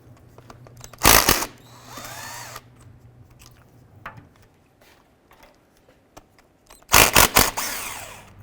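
A power drill removes the bolts on the rear CV joint of a front driveshaft from a 2005-10 Jeep Grand Cherokee: two loud, close whirring bursts, one early and one near the end, with quiet tool handling between them.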